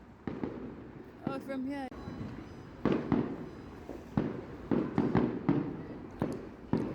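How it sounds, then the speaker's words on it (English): Fireworks on bonfire night, a run of sharp bangs and crackles, some with whistling rises, going off irregularly at middle distance, with people talking briefly among the blasts. "we saw fireworks"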